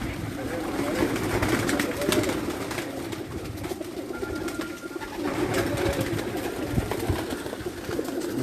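Champion pigeons of a home-bred strain coo in a steady, low murmur throughout, fairly close, with faint background voices and rustle mixed in.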